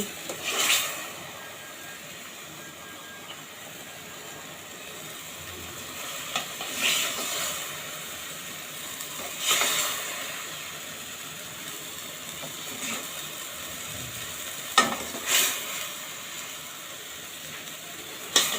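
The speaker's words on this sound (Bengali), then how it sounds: "এই তো মাছ কষানো হয়ে গিয়েছে" Hilsa fish fries in a pan with a soft, steady sizzle, broken every few seconds by louder stirring scrapes and clinks of a spatula, with no talking.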